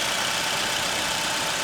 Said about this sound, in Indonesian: Di sini mesin sudah dinyalakan, suara mesin normal dan halus.